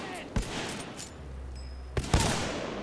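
Rifle shots fire in Titanfall 2 during the Blood and Rust mission: two sharp cracks spaced apart, then a quick double shot near the end, over a low game rumble and faint background tones.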